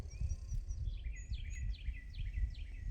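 Birds sing outdoors on restoration land near a road, with repeated high chirps and descending whistled phrases over a low rumble of distant traffic or wind.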